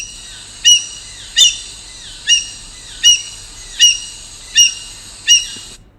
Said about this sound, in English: The first one is that of an Indian grey hornbill.